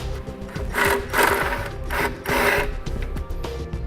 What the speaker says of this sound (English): Now I'm going to be using a 13mm socket to remove that bolt.